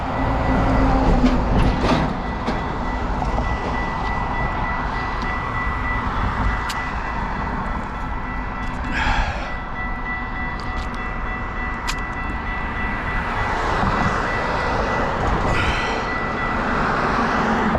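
Light rail train on an urban line passing at a distance, a steady rumbling rail sound with squeals and a few brief tones, heard from a single-speed bicycle amid traffic, with no talking.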